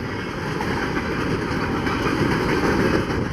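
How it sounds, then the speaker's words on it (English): Grain train rolling past in Eureka, Washington, its wheels with flat spots giving a loud, steady rumble and rhythmic clatter of rail cars, close and continuous throughout. "There goes some more flat wheels."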